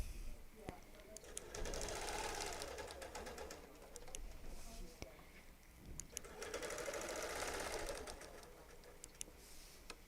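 Domestic sewing machine running in steady stretches of ruler-work quilting, stitching point to point for an orange peel pattern, with a short pause midway; a voice talks over it.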